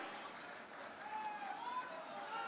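Applause from an audience at a public event in Azamgarh, a steady broadband patter of many hands clapping together, sustained throughout with no pause.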